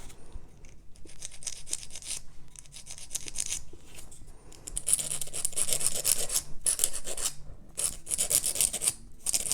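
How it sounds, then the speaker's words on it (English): A file rasps acrylic nails on a practice hand in quick close bursts of scratchy rubbing, separated by short pauses, with no talk. "So we're just going to get these filed. We're going to take the shine off"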